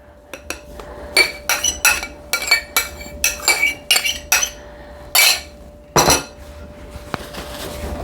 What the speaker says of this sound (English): now I'm going to go ahead and fold in the egg whites